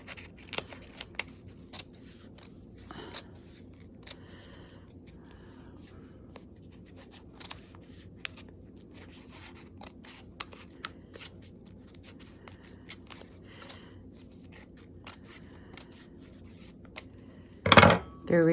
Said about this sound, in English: So now you can trim down your paper.